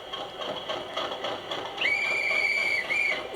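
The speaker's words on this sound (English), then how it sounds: "And you've got various other sounds on it, like the whistle." A Class 50 locomotive whistle from a model sound unit gives one steady, fairly loud tone that holds for just over a second, with a brief gap and a short repeat at the end, over a low background hiss.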